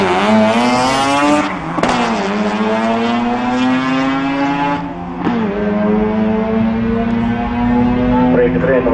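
Race cars launch and rev hard down the drag strip at Tarlton Raceway, a loud, sustained engine roar with climbing pitch and brief shift breaks, while an announcer talks over it.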